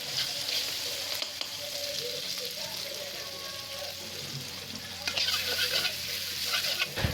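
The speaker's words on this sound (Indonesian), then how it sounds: "Kita tumis sampai harum teman-teman ya" A steady, faint sizzle of chili spice paste frying in hot oil in a wok, with occasional stirring scrapes and louder crackles.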